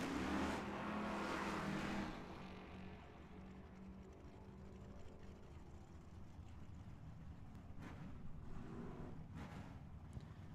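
Drag racing cars, including a '67 Chevelle, at Tucson Dragway: a loud engine roar at launch fades into a distant rumble, then a second swell of engine noise under steady wind buffeting.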